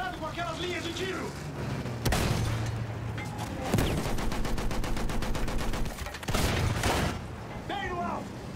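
Bursts of rapid gunfire crackle through Battlefield 1 game audio, with sustained automatic fire in the middle and speech-like chatter around the shots.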